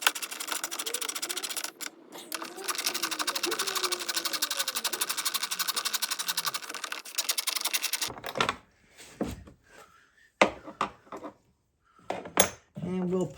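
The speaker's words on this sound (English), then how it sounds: "you got to bolt this down" Rapid, steady ratcheting from an 8mm socket bolting down a part during a Ford Escape brake repair, running for about eight seconds, followed by a few sharp metallic clanks and handling knocks.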